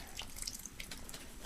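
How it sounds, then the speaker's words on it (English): Water trickles and drips onto potted tomato plants in an apartment garden, a soft, steady patter of liquid on soil and leaves that holds close and fairly quiet through the whole stretch with no talking. "Do a little bit more water here."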